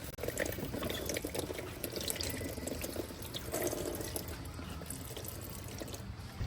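Engine oil draining from a Corvette Z06 into a sample container, a steady continuous pouring stream with slight splashing, close and alone without talk.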